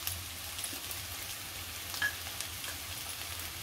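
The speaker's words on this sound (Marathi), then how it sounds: "तेलावरती चांगलं परतते" Dried fish with turmeric and homemade Koli masala fries in oil in a pan, a soft steady sizzle with faint crackles, quiet and close, with no one talking.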